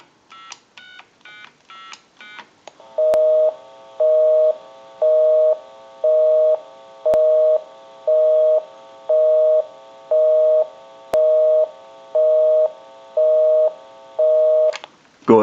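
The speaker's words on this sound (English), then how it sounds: "Now what we can do is call my number and it'll be busy." On a repaired single-slot payphone, a quick burst of touch-tone dialing beeps is followed by a repeating busy signal, regular on-off tones pulsing loudly about a dozen times before a click at the end.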